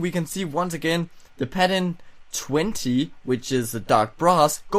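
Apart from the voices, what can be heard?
None of the usual background noises is heard.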